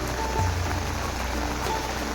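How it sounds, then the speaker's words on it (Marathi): Heavy monsoon rain pours steadily at the Murudeshwar temple on the coast, a dense continuous hiss of drops close by with no talk over it. "एवढा मोठा पाऊस पडतोय."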